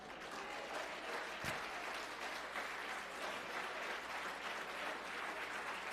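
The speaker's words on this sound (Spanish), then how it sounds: "Un fuerte aplauso al Señor." A church congregation applauds steadily after a sermon, a dense, even wash of clapping that fills the space from start to finish with no voices on top.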